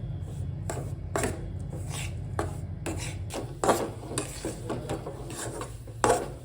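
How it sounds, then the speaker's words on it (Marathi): A spoon scrapes and rasps steadily through gram flour roasting in ghee in a pan for besan laddoos, with repeated rhythmic strokes and occasional clinks against the pan. "आपल्याला पाहिजे तसं पीठ भाजून झालेलं आहे"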